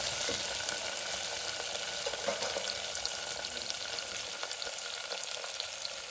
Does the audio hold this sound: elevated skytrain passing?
no